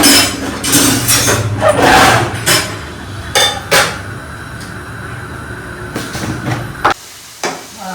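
Tomatoes are chopped with a knife in a home kitchen while palak paneer is being made, giving irregular sharp taps and clatters against a board, with a faint sizzling background.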